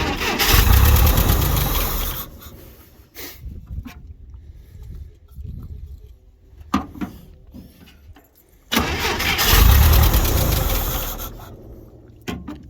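An International Scout 80 engine cranks and starts, roaring loudly for about two seconds before dropping off, then sputtering quietly and catching again at full roar near the end, with no talk over it.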